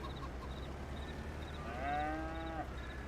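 Cattle on a farm moo once in a drawn-out, mid-distance call over a steady low outdoor background, with no other animals standing out.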